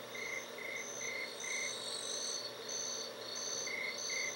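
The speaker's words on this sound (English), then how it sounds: "It's now night, and the crickets are out." Crickets chirp at night in Seaman for the Sega Dreamcast, a repeating series of bright, evenly spaced pulsed trills over a soft steady background hum, continuing throughout with no talk.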